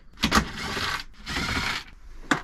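An air impact gun spins seat base nuts off a VW Transporter, giving two sustained rattling whirs of about half a second each, framed by sharp mechanical clacks, close and loud.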